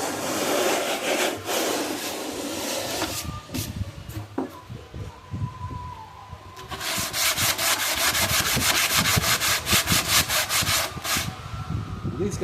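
Someone sands a wooden cabinet by hand, with rough, rhythmic rubbing strokes close up that speed into a fast, steady back-and-forth scrubbing in the second half.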